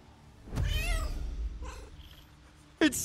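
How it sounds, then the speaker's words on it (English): A cat in a video game lets out a drawn-out, wavering meow, fairly close and clear, followed by a shorter softer mew and then a sudden sharp burst at the end. "It's such a ferocious meow."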